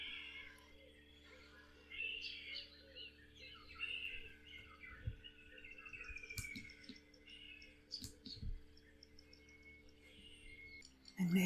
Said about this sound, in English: The sound of birds, but maybe in the distance you can hear the rushing of the Tugela River